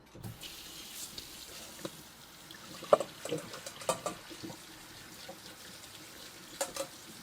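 Cold water runs from a kitchen tap, a faint, steady splashing stream with a few louder knocks and clatters around it and no talk.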